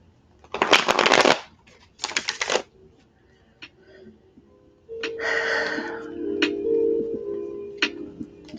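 Tarot cards being shuffled in two quick riffling bursts, followed by softer card handling and taps, close by with a faint background hum.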